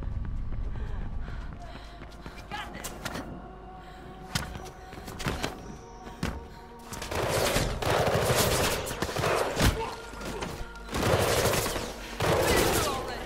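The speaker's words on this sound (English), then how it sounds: "Who's shooting at me?" Bursts of gunfire in the parkour game Mirror's Edge Catalyst, rapid automatic volleys crackling in clusters with running footsteps and gaps between, fairly loud and close, with a voice speaking at times.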